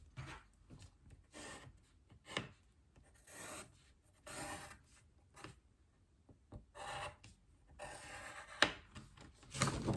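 A pencil traces an outline on paper for an oval swing card template, with soft, close scratchy rubbing strokes coming in short irregular bursts separated by quiet pauses.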